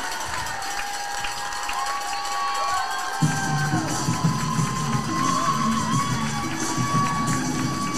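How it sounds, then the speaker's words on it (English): A crowd cheers at a varsity ice hockey game on senior night, a loud sustained roar with shouts and whistles in a rink after the final buzzer, swelling partway through. "Excellent crowd on hand here, celebrating their team, celebrating their seniors."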